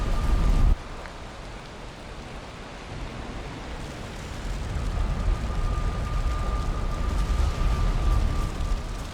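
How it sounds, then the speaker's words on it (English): Steady rain and stormy weather in the survival game Valheim, a constant loud wash of hiss and rumble with no pauses, swelling slightly midway. "wet and stormy today"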